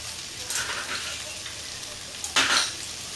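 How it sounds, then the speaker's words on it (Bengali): Cauliflower and potato curry sautéing in a pan with cumin paste in a Bengali-style home kitchen, a soft steady sizzle with occasional spatula scrapes and stirring bursts close by. "দিয়ে আবার এটা আমি আবার সুন্দর করে কষতে থাকবো"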